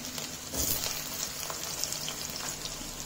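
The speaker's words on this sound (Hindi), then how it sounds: "इसके साथ ही हम अपने आलू भी डाल देंगे फ्राई करने के लिए।" Potatoes and whole garlic cloves fry in hot oil for aloo gobi, a soft steady sizzle with faint stirring scrapes, fairly quiet and without talk.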